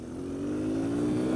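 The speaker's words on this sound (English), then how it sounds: "It revs a lot faster." A Kawasaki KLX140L dirt bike fitted with an aftermarket air filter revs its engine, a steady loud drone climbing slightly in pitch, close by with no talk.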